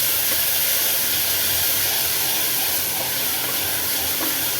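Onions and tomatoes sauté in a hot pan with a continuous, loud, bright sizzling hiss that stays steady from start to finish, with no voices over it.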